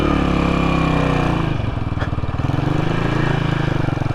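A kick-start 1981 Yamaha SR500 single-cylinder, single-carburettor motorcycle engine runs close and loud with a steady, rapid thumping pulse that shifts slightly in pitch midway, alone without talk.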